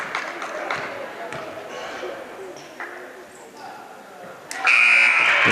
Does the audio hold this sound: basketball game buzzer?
yes